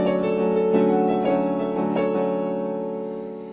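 Piano playing the opening chord of a song with its melody on top, sustained sounding notes with a few soft re-struck accents, close and clear, fading slightly toward the end with no talking.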